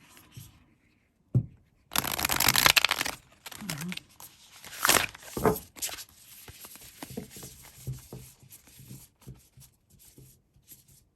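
Cards being shuffled and handled in bursts, with crisp riffling and shuffling noises between quiet gaps.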